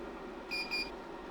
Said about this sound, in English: the flashing Seed Out button, which is accompanied by a series of beeps